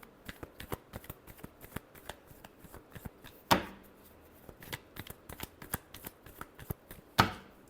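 Tarot cards are shuffled close up in quick, crisp riffles and taps, with two sharper bridge-like snaps standing out, quiet overall and no talking.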